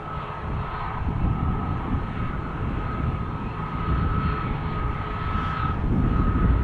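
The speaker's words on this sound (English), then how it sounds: "A320neo taking off right now, going to Copenhagen." An Airbus A320neo taking off from Amsterdam Schiphol for Copenhagen roars close and loud, a dense engine rumble with a sustained high whine that swells gradually over several seconds, with no voices.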